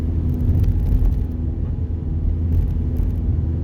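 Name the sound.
car engine during a driving lesson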